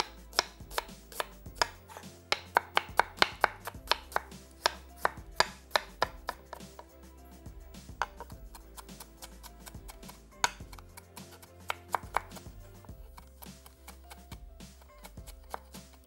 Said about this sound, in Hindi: चॉप कर लें रफली सा ताकि प्याज की जो लुक है उसका जो छल्ला है